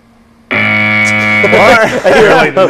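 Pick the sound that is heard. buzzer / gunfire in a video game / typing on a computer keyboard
buzzer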